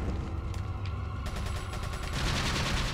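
Gunfire in the video game Resident Evil 4: a steady run of rapid, loud shots with sharp repeated cracks over a heavy, rumbling bed, with no talking.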